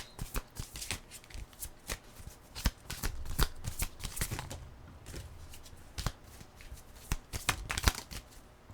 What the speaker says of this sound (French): Je vais aller vous chercher maintenant 4 cartes de l'oracle parce qu'on va en avoir un autre.